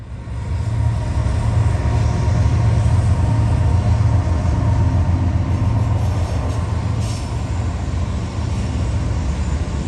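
Norfolk Southern freight train NS 179 led by two BNSF locomotives passing near a former downtown union station, a loud, close, continuous low engine rumble with steady rolling noise throughout.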